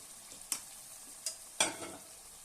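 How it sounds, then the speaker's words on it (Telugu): A spoon stirs natu kodi (country chicken) curry in a pan, making three soft scraping strokes over a faint sizzle in an otherwise quiet kitchen. "ఇప్పుడు ఇదంతా బాగా కలుపుకుందాం"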